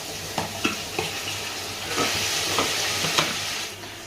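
Tomato pieces frying in hot oil make a constant sizzle with scattered stirring clicks and taps. The hiss swells midway as the pieces hit the oil, close and without speech.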